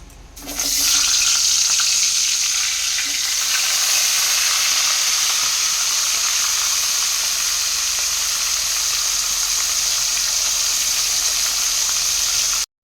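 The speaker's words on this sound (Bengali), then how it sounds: "আমি মাছের মাথা ভাজা বসিয়ে দিয়েছি" Fish heads frying in hot oil make a loud, steady, close-up sizzle that starts abruptly after a brief quiet moment, holds evenly throughout, then cuts off sharply at the end.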